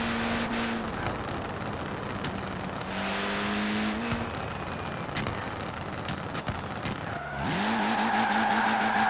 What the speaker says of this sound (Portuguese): Eu vou fazer uns drifts com ele aqui, maluco.